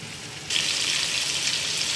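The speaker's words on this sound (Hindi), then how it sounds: "इसको 6 से 7 मिनट एक साइड से फ्राई करेंगे" Chicken pieces frying in a pan for masala, a loud, steady sizzle that bursts in suddenly after a quieter start and continues evenly.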